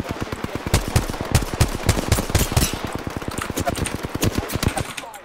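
Rapid automatic gunfire from the video game Apex Legends, a dense rattling stream of sharp shots in quick succession, loud and nearly continuous for several seconds.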